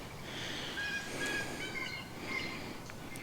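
Wild birds, among them blue jays, call faintly from the woods on a preserve trail, a few thin whistles and short notes set far off against a steady hiss of background noise.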